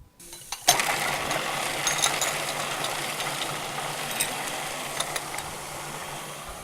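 A Vitamix blender processes peppers, olives, soaked walnuts, carrots, onions, oregano and garlic, starting abruptly and running as a steady, loud, dense whir with small rattles of chunks against the container.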